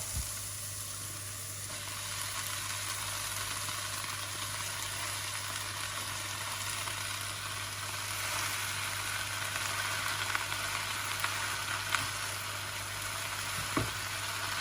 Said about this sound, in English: So now the leek and the mushrooms are fried up.